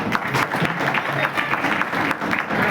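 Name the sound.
applause of welcome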